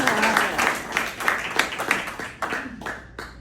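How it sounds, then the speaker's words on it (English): Guests at an Eagle Scout court of honor clap in a modest, uneven round of applause, individual claps distinct and fairly close, with a voice mixed in. "Can we get a round of applause for everybody who's sitting here?"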